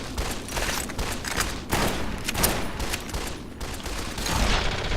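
Rapid, sustained gunfire bursts in the Fallout New Vegas game, crackling shots overlapping densely for several seconds, fairly loud and without talk.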